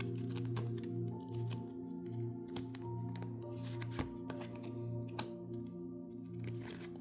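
Tarot cards being shuffled and drawn, soft riffling and flicking with a couple of sharp snaps of a card, faint and close over a steady background hum with sustained musical tones.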